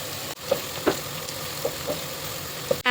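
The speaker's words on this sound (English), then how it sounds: "Onions coming. Now I'll make them golden. Keep stirring." Onions sizzle in a pan while being stirred toward golden, a steady frying hiss punctuated by several soft spoon scrapes and clinks, with no voices.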